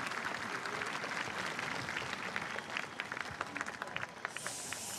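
An audience applauds steadily at an outdoor national festival marking the 80th anniversary of Korea's Liberation Day, a dense wash of clapping that stays even and fairly loud throughout.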